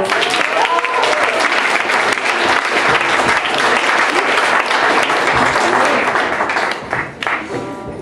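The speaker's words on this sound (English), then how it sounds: "Big round of applause!" An audience applauding at a high school music showcase after songs, loud sustained clapping from a crowd that thins slightly near the end.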